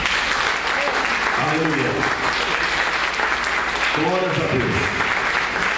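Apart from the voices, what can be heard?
church congregation applauding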